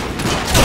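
Rifle gunfire in the video game Sniper Elite 3, a short burst of dense overlapping shots rising in loudness toward the end, with no talk.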